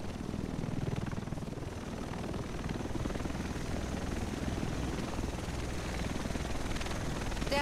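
A helicopter arrives in The Division's Manhattan, its rotor thumping steadily and loudly throughout with dense low-frequency chop and engine roar, no voices over it.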